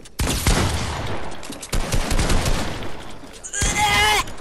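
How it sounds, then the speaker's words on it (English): Shotgun blasts go off in Fortnite, a few loud booming shots spaced through a noisy stretch of gameplay, with a player talking excitedly over the firing. "My shotgun actually sucks."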